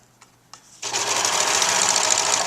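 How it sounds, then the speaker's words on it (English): A serger overlocks the fabric edges of a bag, starting after a couple of faint clicks with a loud, steady, fast mechanical whirring that runs close and continuous to the end. "start serging"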